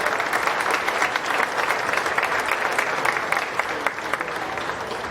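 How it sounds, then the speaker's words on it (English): A crowd at the Putnam County Fair beef show claps loudly and steadily for the exhibitors, a dense, sustained round of applause with no voices over it. "I think we need to give all the exhibitors that made it here in the reserves as well an awful big round of applause."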